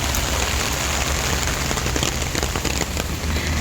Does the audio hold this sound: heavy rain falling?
yes